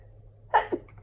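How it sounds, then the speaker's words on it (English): A single short sneeze, close and fairly loud, a sharp burst followed by a quick softer tail, over a quiet indoor background with no speech. "I feel like I have to sneeze."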